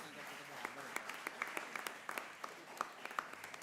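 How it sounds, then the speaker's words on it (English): Applause at the grand finale of a constitution quiz event, a thin, fairly faint patter of separate claps from a modest audience, steady throughout. "Please give a big round of applause."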